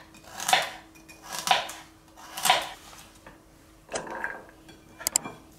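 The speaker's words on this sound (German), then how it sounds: "Und die Möhren werde ich auch grob schneiden." A knife chops carrots roughly on a cutting board for a carrot-ginger soup: about six loud, close knocks, the first three evenly spaced, then quicker, sharper strikes toward the end.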